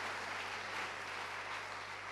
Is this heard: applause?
yes